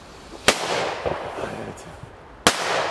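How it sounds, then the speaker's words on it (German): Two sharp, loud P1 firecracker (Böller) blasts go off about two seconds apart outdoors, each a sudden crack followed by a rumbling tail, with a voice briefly audible between them. "Also das sind wirklich P1-Böller und das richtig geil"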